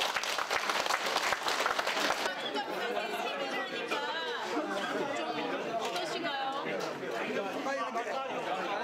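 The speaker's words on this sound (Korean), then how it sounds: "다시 한번 박수쳐 인사드리겠습니다" An audience at a village New Year bowing ceremony, Wichon-ri's dobaerye, breaks into loud, dense applause that gives way to crowd chatter and overlapping voices, with scattered claps continuing beneath the talk.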